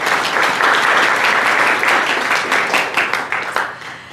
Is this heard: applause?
yes